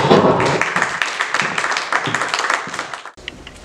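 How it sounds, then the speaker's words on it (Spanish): An audience applauds the Sexteto Místico, a young ensemble, with dense, steady clapping that swells and thins before dropping off sharply near the end. "Un aplauso, por favor, para ellos."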